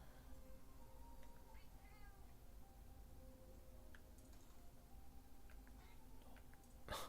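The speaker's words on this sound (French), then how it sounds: "Le chat." A cat meows faintly in the background, a few short high mews rising over a steady low hum and hiss of a quiet room, with a sharp click near the end.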